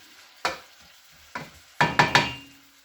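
Sweet and sour pork cooking in a pan, heard as a soft sizzle broken by several sharp knocks and scrapes of a utensil against the pan, five clear strikes closely spaced near the end, with no talking.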